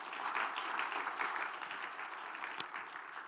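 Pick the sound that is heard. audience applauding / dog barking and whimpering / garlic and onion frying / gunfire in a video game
audience applauding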